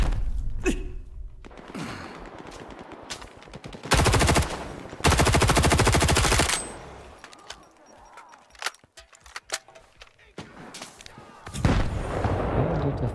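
Machine-gun and gunfire battle outside in the video game Stalker 2, with loud sustained automatic bursts mixed with scattered shots and thuds, some closer and some distant.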